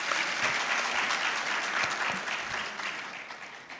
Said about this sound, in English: You saw that round of applause.